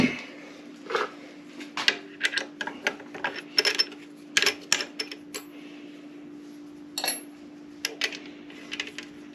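A hand tap cuts an M6 thread into a metal part, producing irregular clicking, scraping and metallic ticks over a steady low hum, close and fairly quiet.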